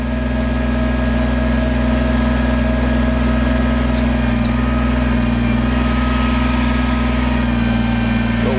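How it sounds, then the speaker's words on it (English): A backhoe stuck axle-deep in mud runs its engine steadily, a loud, constant low drone while it reverses and digs its bucket teeth into the ground to pull itself free. "we're gonna take our backhoe, set our teeth down in the ground, and hit the reverse pedal while pulling back in"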